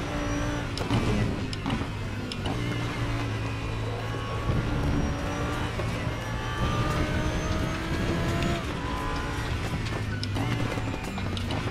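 An Audi GT3 race car in RaceRoom at Sachsenring, its engine droning and shifting pitch continuously alongside other cars, loud and sustained throughout.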